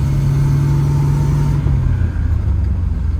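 A 1965 Mustang with a 200 inline-six and T5 five-speed conversion hums along at steady engine drone, then the tone drops midway as a gear shift changes the engine note to a lower rumble.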